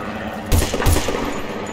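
Gunfire in the video game Battlefield: Bad Company 2: two heavy, booming shots about a third of a second apart over a constant dense game-ambience rumble, with no talk.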